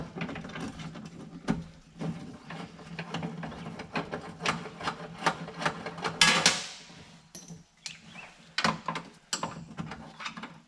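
A hand tool works the 8mm bolts on a BMW E46 door's window regulator, giving close, quiet, irregular ratcheting clicks and metallic taps with a short sharper rattle midway.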